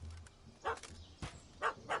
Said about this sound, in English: Don't know how to handle yappy little dogs?